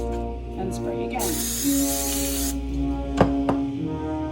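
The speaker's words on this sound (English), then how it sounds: "We will spray 3 6-inch cake pans" Cooking spray hisses onto three 6-inch cake pans in one steady burst of about a second, close and clear, with talking and background sound around it.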